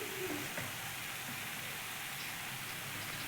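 Onion frying in a pan until golden, with red chilli powder going in; a steady, close, even sizzle with a soft hiss throughout and no voices.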